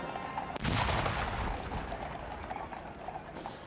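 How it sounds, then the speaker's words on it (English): A ceremonial minute gun fires once at a royal funeral at Windsor, a single distant boom followed by a long rolling echo that fades across outdoor ambience. "And as the minute gun fired,"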